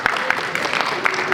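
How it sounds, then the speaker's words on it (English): A live audience at a performance showcase claps in a steady, dense wash of applause, fairly close and loud, with no talking over it. "Big round of applause again."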